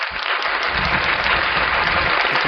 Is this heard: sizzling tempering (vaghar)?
no